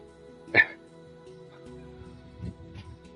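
A small dachshund gives one sharp, high whimpering yip up close indoors, followed by a few faint, softer whines and shuffling.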